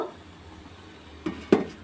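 Puli pitha cakes are set into a pot over boiling water for steaming, giving two quick, light metallic clinks after a quiet stretch.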